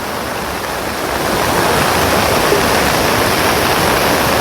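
Floodwater rushing over a bridge beside flooded farm fields, a steady broadband roar like a waterfall that holds loud and unbroken from start to end, with no voices.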